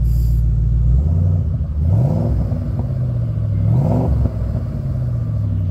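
A car engine with a quad-tip axle-back exhaust idles with a deep rumble, then revs up twice, each rise swelling louder before settling back to a low burble.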